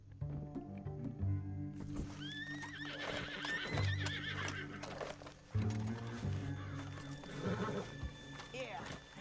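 A horse in Red Dead Redemption 2 neighs and whinnies over clip-clopping hooves and game music, with a voice talking throughout.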